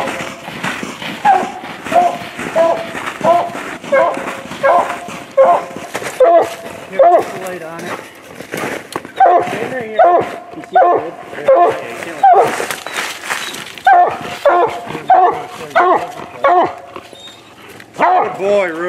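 Hunting dogs bay repeatedly on a treed raccoon at night, loud rhythmic barks and howls in bursts close by, with people talking over and between them.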